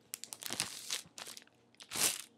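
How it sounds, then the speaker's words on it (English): A plastic bag being handled in a kitchen while preparing Skittles frosting, giving sharp crinkles and crunches in quick clusters and then one louder rustling swell, close and with nobody talking. "You get out a plastic bag"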